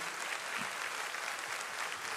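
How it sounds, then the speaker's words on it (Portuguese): Applause from a church audience fills the space, steady and continuous clapping from many hands at moderate distance, with no talking over it. "Uma salva de palmas para o Fala a Deus"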